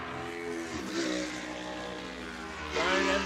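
Superbike engines racing at a USBK Bishopscourt meeting, a high revving whine that rises and falls through gear changes and swells loudly near the end as a bike passes close.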